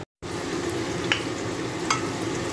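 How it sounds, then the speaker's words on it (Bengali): Onions deep-fry in oil for Old Delhi style chicken korma with a steady, close sizzle, broken by a couple of light stirring clinks after a brief silence at the start. "পেঁয়াজগুলো দিয়ে দিয়েছি, এবার ভালো করে এটাকে ফ্রাই করতে হবে, ডিপ ফ্রাই"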